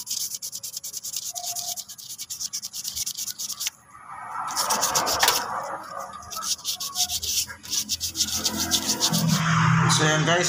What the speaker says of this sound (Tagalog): Kaya lang gamitin natin yung pinong yung pinong liha